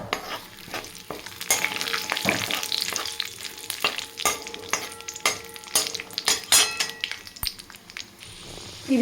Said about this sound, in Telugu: వీటన్నిటిని కొంచెం లైట్ బ్రౌనిష్ కలర్ వచ్చేంత వరకు కాజూస్ని కూడా వేయించుకుందాము.